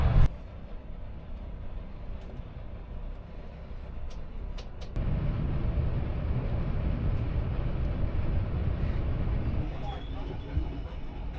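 An XBT passenger train runs on the Sydney to Brisbane line, a steady low rumble from inside the carriage that deepens and grows louder partway through, with a few clicks and knocks over it.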